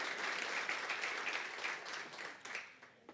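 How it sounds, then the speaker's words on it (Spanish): A church congregation applauds during a service, a dense, steady wash of many hands clapping that fades slightly toward the end, with no talk over it. "Un aplauso para Dios"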